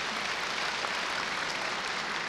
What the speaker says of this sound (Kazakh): шапалақ ағайын